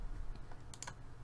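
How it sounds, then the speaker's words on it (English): Someone types on a computer keyboard, giving a few quick, faint clicks over a low background hum, with no talking. "That's not how typing works."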